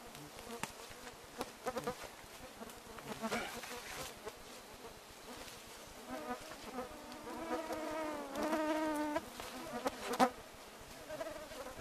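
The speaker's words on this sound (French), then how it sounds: "Vous voyez les mouches littéralement, là, c'est rempli dans l'écran, vous les entendez." Many flies buzz close by outdoors, a dense, wavering drone with individual insects swelling past, and faint voices underneath at times.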